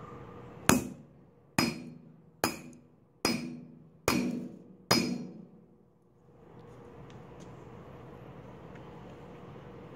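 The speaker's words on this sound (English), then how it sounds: "let's hit it with a hammer a few times" Six loud, ringing hammer blows on metal, evenly spaced about a second apart, followed by quiet room noise.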